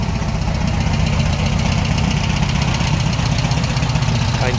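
A 1964 Meyers Manx beach buggy with a wing exhaust idles close by, a steady, loud, lumpy engine chug throughout with no talk.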